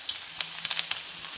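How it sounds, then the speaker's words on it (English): Onion drops into hot oil and sizzles at close range, with a quiet hiss broken by sharp crackling pops. "Our oil are getting hot. So I'm going to put onion."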